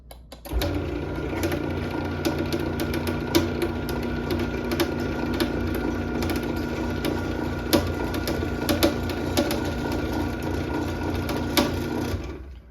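A garage door opener runs along its rail steadily with a continuous mechanical whir and intermittent pops and clicks, starting abruptly and stopping near the end.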